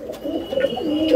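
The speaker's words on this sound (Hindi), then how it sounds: "बेमिसाल किस्म के कबूतर," Soft cooing of Rampuri Indian pigeons, a low throaty warble repeating steadily for a moment, close by with no talking.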